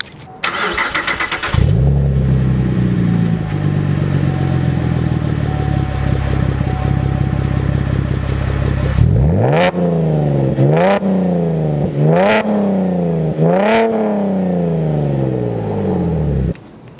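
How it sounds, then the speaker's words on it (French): A Chevrolet Camaro's engine fires up with a brief crank, settles into a loud droning cruise heard from the cabin, then revs hard through about five rising-and-falling bursts as it accelerates, close and booming. "le ronronnement du moteur résonne dans la cabine et ça fait un boucan mais alors d'enfer"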